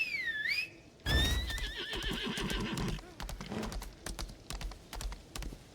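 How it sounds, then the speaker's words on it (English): A horse neighs in the video game Lost Ark, a short whinny followed by a longer, louder one, with hoofbeats and game-like rustling continuing beneath. "So let's get on our horse."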